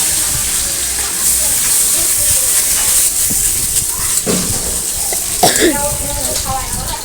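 Cashews and raisins sizzle and hiss in hot oil close by, with a few clinks of stirring and a voice talking over it.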